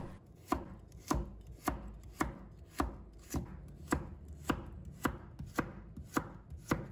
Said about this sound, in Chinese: 再准备1条胡萝卜，把它切成小段。 再把它切成片，